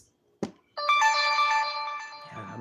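A mobile phone ringtone rings out loud and close in a Dollar General store, a steady melodic tone sounding alone after a brief knock, then fading.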